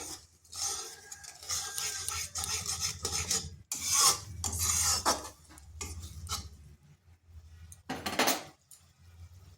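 A spoon scrapes and rasps through spice paste cooking in oil in a pan for an eggplant-in-yogurt curry, with irregular bursts of stirring separated by short quiet gaps and occasional clinks of metal on the pan.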